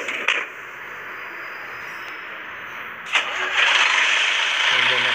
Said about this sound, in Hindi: Engine start.